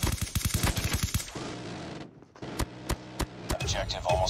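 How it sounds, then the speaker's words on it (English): An automated sentry gun firing in the shooter game COD Mobile, with a rapid, loud burst of evenly spaced shots followed by a brief lull and several separate single shots, while a voice speaks. "Sentry gun deployed."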